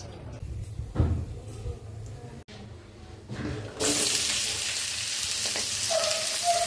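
White potato curry cooking in a pan at home, a soft clatter and stirring giving way to a loud, steady sizzle that holds through the second half.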